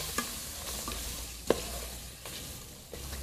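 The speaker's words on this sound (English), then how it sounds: "I'm going to give it a bit of a stir around." Spiced beef for a vegetable and beef soup gets stirred in a pot, a soft sizzle with a few spoon scrapes and a faint clink in the middle.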